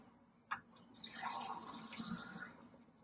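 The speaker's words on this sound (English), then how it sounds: "we are also going to add half a glass of water" Half a glass of water pours into two cups of flour in a mixing bowl for saltfish fritters, a soft splashing trickle lasting about a second and a half after a small clink.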